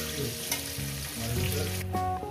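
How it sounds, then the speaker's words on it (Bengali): Potatoes frying in hot oil in a kadai for a Bengali rohu fish curry, a steady close sizzle and crackle with faint tonal music underneath. "সেইভাবে আলুটাকে ভেজে নেব"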